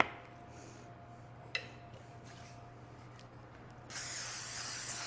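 Cooking spray is greased onto a pan as a sharp, steady hiss that starts abruptly and holds loud to the end, after a quiet stretch of faint room noise and a single small knock.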